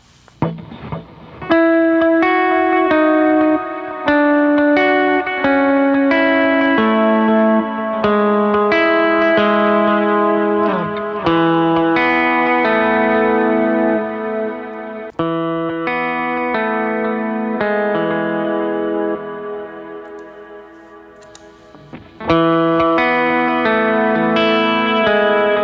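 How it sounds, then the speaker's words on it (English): An electric guitar played through a pedalboard with a large cloud reverb and a heavily squashed compression effect rings out in sustained, washy chords and notes that blur into one another, loud and close with no talk. "Let's actually add like a bigger sort of cloud verb or something, and then kind of use that sort of super squashed effect"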